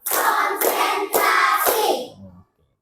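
A fifth-grade classroom claps together on the teacher's signal, four distinct evenly spaced group claps ringing out in a row, then a short voice trailing off.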